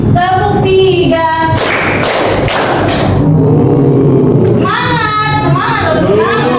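A classroom of students claps together in a rhythm game, a quick run of loud, sharp claps landing close together while voices sing and chatter around them.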